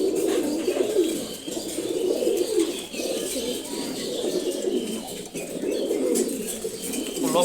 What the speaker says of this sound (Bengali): একটা অসাধারণ একটা ঘিয়াচুল্লি নর কবুতর